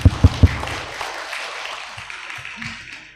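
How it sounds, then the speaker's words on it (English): Applause for presenters at an education and technology conference: three loud, close thumps open it, then scattered clapping fades into a quiet room with a few soft knocks. "Please give a big applause for all of them."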